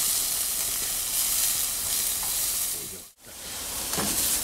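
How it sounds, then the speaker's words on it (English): Steady, loud sizzling of lamb wraps frying in a hot pan, a dense hiss that briefly cuts out near the end before resuming. "We've been frying on one side for about a minute."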